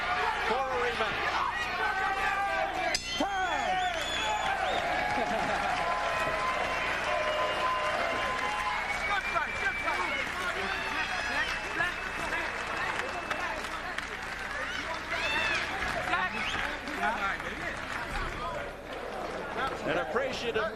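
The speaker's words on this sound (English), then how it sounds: "An appreciative crowd applauding." Arena crowd applauding after the Sharmba Mitchell vs Vince Phillips boxing match, dense sustained clapping and cheering mixed with crowd babble and ringside talk throughout.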